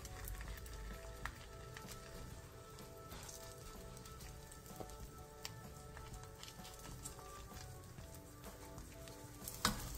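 Fish cakes topped with chopped vegetables fry in an oiled pan over medium-low heat, giving a faint, steady sizzle with scattered small pops and crackles.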